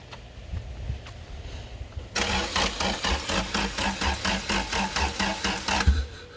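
A turbocharged Honda car engine cranks with the starter over and over in a fast, even rhythmic whirring chug, close and loud, after a quieter lead-in.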